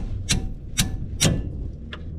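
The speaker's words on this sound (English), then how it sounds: "I got a hammer again" Three evenly spaced sharp hammer strikes, plus a fainter fourth, hit metal while working loose the front wheel bearing hub assembly on a 2014 Chevy Express 1500 van; the blows are close and loud over low background rumble.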